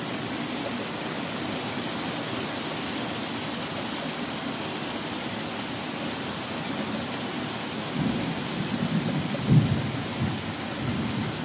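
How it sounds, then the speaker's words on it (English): Heavy rain pours steadily over a farm during a storm, and a low rumble of thunder swells near the end, with no voices. "you get storms like this that can really flood out animals"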